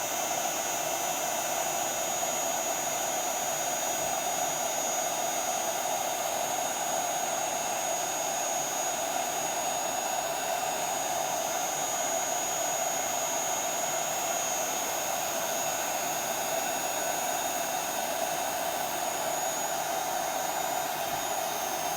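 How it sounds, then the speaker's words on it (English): A heat gun blows steadily on embossing powder stamped on a handmade card, a loud, even whooshing roar with a high whine that holds unbroken throughout. "we're going to take our heat gun and heat this up"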